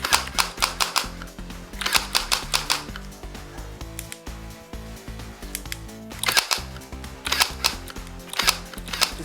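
A Strike Pros tactical laser tag toy gun fires repeatedly, giving sharp electronic clicks and bursts in quick clusters, loud and close, with short pauses between volleys and no speech.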